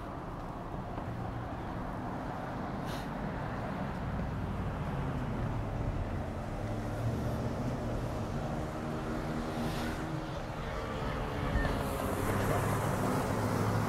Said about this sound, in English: Big truck followed by a very small bike.